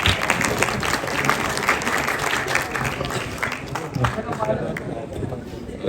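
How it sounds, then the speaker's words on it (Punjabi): Applause from a conference audience at an international Punjabi conference, a dense patter of clapping sustained across the room, fairly close and then slowly thinning out toward the end. "ਉਹਨਾਂ ਲਈ ਤਾਲੀਆਂ ਜ਼ਰਾ ਪਲੀਜ਼"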